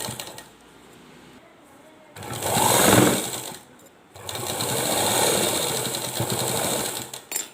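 A sewing machine stitching a blouse neck band runs in two bursts of rapid, even clatter separated by a short pause, with quieter handling noise around them.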